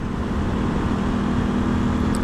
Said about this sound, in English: See that car coming